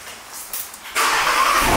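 A car engine in a home garage cranks briefly and then catches, settling into a loud, steady running roar.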